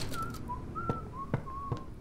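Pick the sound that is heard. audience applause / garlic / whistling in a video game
whistling in a video game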